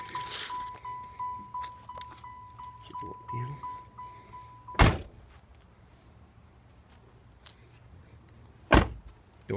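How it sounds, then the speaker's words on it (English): Doors on a Buick Roadmaster station wagon shut with two solid, heavy thunks spaced a few seconds apart, preceded by a steady chime tone and some faint shuffling. "Doors all closed nice and solid."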